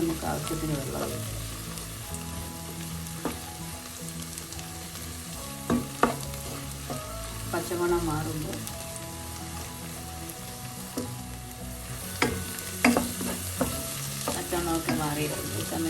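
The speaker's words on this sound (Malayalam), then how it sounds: "ഈ സമയം നമുക്ക് മസാല ചേർക്കാം" Masala spices sizzle and fry in hot oil in a pan for a quail egg curry, with steady crackling and occasional scraping stirs of a spoon; a brief spoken phrase is heard once.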